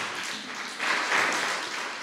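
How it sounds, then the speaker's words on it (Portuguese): A church congregation applauding during a service, a soft continuous wash of many hands clapping at a distance, swelling slightly midway, with no voices standing out. "Aplauda o nome do Senhor Jesus."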